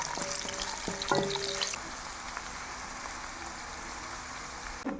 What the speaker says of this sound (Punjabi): ਅਦਰਕ ਤੇ ਹਲਦੀ ਜਿਹੜੀ ਆ ਮੈਂ ਪਾ ਦਿੰਦੀ ਹਾਂ ਮਾੜਾ ਜਿਹਾ ਆਪਾਂ ਇਹਨੂੰ ਰੋਸਟ ਕਰਾਂਗੇ